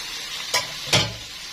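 Peppers frying in a pan, a steady sizzle broken by two distinct stirring scrapes about half a second apart, close and clear, with no talk.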